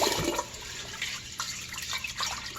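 Tap water running into a sink to rinse rice, a steady close splashing gush with brief gurgles and shifts as it fills, with no talking.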